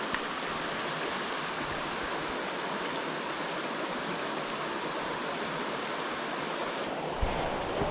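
Waterfall beside a bridge, a steady broadband rush of falling water that stays loud and constant throughout, with a faint click near the end.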